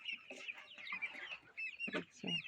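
Several chickens cluck and chirp close by in short, uneven bursts, with high peeping calls over lower throaty clucks.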